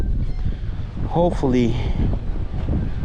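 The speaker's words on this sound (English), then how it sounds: "It's kind of windy right now" Coastal wind blows steadily at night during shoreline fishing at Port Mansfield, a broad low rumble buffeting the microphone throughout while someone talks over it.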